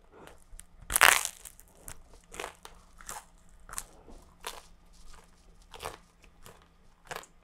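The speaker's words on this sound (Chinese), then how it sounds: "这个皮真的好脆好脆，听，咔嚓咔嚓" Crunchy crust of a homemade natural-yeast sourdough loaf is bitten with one loud crackling snap, followed by a series of softer crisp crunches and chewing at a steady pace, close up.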